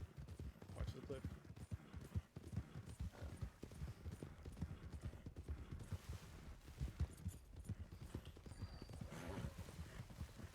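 Horse hooves clip-clopping in Red Dead roleplay game audio, a steady galloping rhythm with an occasional whinny, mixed under frequent player talk and brief bursts of gunfire.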